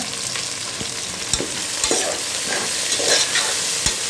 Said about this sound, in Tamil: வெங்காயம் கொஞ்சம் வந்து நல்லாவே கோல்டன் கலர் வர வரைக்கும் நம்ம வந்து ஆயிலில் வந்து நல்லா ஃப்ரை பண்ணிகிட்டே இருக்கணும் வெங்காயம் வதங்கிட்டு இருக்கு